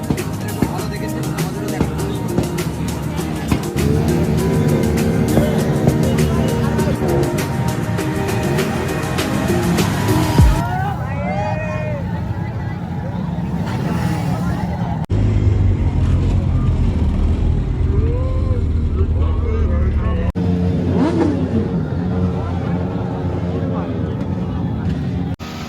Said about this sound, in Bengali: এখানে দুখানা বাইক একসঙ্গে পাশাপাশি মুখোমুখি দাঁড়িয়ে খেলা দেখাচ্ছে, পিছনের চাকা বার্ন আউট করছে।